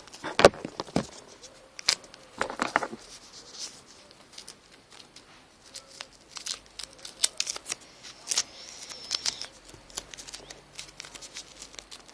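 Scissors snip through tape in short, irregular bursts close by, with crisp cuts scattered among soft rustling and handling noises.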